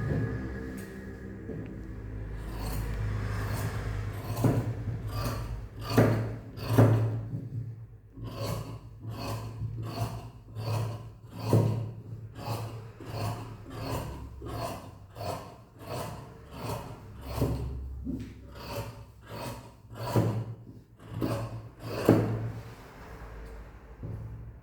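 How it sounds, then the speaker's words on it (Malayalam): Scissors cut through churidar top fabric in a steady run of sharp, rhythmic snips, close and fairly loud, repeating for most of the stretch with short pauses, and no talk. "ഇനി ഇത്ര നമുക്കിനി കട്ട് ചെയ്ത് മാറ്റാം."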